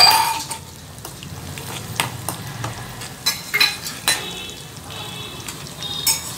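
Curry leaves and green chillies frying in hot oil, a moderate sizzle broken by scattered clinks and stirring scrapes of a utensil against the pan, with no one talking.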